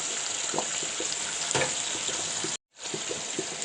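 Saffron milk cap mushrooms, already giving off their juice, sizzle and fry steadily in a pan with pepper and salt, a close, continuous hiss with a brief dropout near the end.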